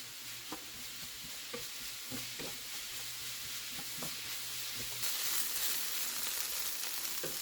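Chopped red peppers sizzle in a hot pan for a vegan chickpea dish, the steady frying hiss broken by repeated scraping stirs of a utensil, close and clear with no voices.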